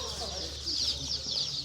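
Chickens at a store make soft, chattering clucks and peeps in a brief busy cluster over a low background hum, fairly quiet and close.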